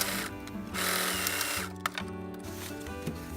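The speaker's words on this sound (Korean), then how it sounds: "A의 손잡이 윗부분을 바느질 해주세요." A sewing machine stitches across the top of a fabric grocery bag handle, its steady whirring motor running in bursts with brief pauses and speed changes, close and clear with no talk.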